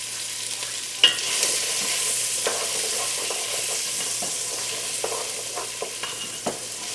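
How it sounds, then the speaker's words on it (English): Onions, carrots and celery sweat in a soup pot for Amish chicken corn soup, giving a gentle continuous sizzle with a sharp clink at the start and scattered stirring scrapes, close and without speech. "And I'm just going to let these sweat out a little bit."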